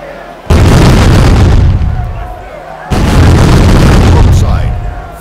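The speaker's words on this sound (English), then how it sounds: "Broadside. Fire." A broadside from ship cannons in an East India Company sea battle game: two huge, booming volleys a couple of seconds apart, each rolling into a heavy, sustained rumble.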